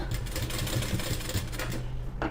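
Sewing machine stitching a plain blouse, a steady fast mechanical whirring rattle that runs throughout at moderate level with no talk.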